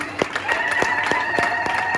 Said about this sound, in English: A big clap for everyone.